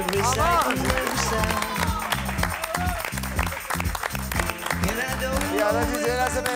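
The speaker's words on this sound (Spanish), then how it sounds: "¡Fuerte aplauso para Clara Morrell!" A television studio audience applauds loudly for Clara Morrell, with dense continuous clapping and crowd noise, a rhythmic beat and music underneath, and bright cheering voices mixed in.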